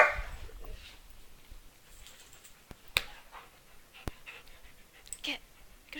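German Shepherd dog panting quietly nearby in a steady, faint rhythm, broken by a few sharp clicks and taps.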